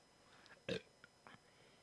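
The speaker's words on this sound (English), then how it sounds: "that burp hit the wrong spot" A single short, soft burp from a person, followed by faint mouth noises and breathy sounds in a quiet room.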